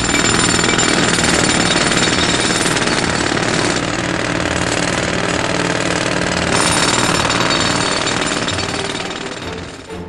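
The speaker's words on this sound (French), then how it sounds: "Il courut chercher son marteau-piqueur et détruisit la maison." A jackhammer pounds loudly and continuously in rapid, rattling bursts, close by, tapering off slightly at the end.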